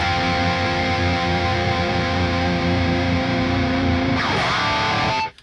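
An electric guitar played through a Graphene pedal with the gain turned up rings out in sustained, distorted held notes, then swells into a brief feedback-like sweep before cutting off, with no talk.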